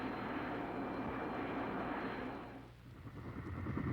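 A Phantom jet aircraft in flight gives a dense, steady engine roar that holds loud and then briefly dips and swells near the end, heard without voices.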